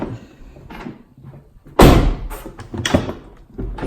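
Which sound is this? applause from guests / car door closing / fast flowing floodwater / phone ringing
car door closing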